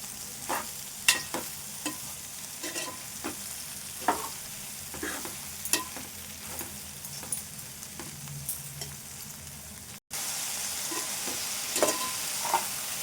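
Half a kilo of okra frying in a pan, a soft continuous sizzle broken by frequent spatula taps and scrapes, getting denser and hissier after a brief cut near the end.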